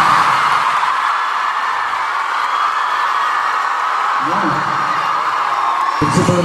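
College students at a freshers' event at Assumption College Changanacherry raise a dense wash of cheering, whooping and clapping that fills the room continuously, with a few louder voices near the end.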